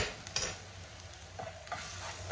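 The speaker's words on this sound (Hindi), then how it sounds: "ये मसाले को मिक्स कर लेंगे।" Chili flakes and spices are stirred in a hot pan for keema samosa filling, giving a soft continuous sizzle and several close scraping strokes of a spoon against the metal.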